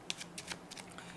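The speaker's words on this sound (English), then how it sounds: "I'm just going to give this deck of cards a few shuffles" A deck of playing cards being shuffled a few times, with several quick, faint papery riffles in short succession and no talk.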